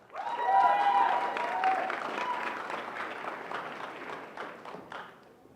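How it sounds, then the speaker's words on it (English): An audience at a startup pitch competition final breaks into a big round of applause, clapping rising quickly, holding steady with a few cheers, then tapering off. "It's going to be a huge round of applause."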